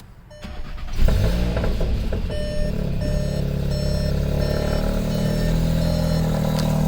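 A Volkswagen MK7 Jetta GLI engine cranks and fires after a brief quiet moment, then settles into a steady, loud idle close by, with a faint electronic beeping tone running over it.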